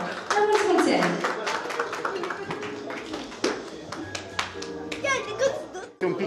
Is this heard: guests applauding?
yes